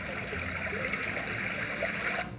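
Steady trickling water from a Hatch Baby Rest sound machine, a soft continuous hiss and babble with no breaks, at an even moderate level.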